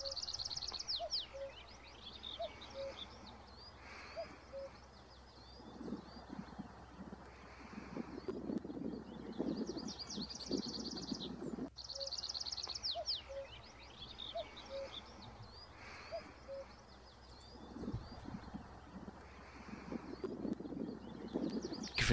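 Willow warbler and chiffchaff sing in woodland, their high repeated phrases returning in several bursts at moderate distance over steady wind noise and low rumbling, with no talking.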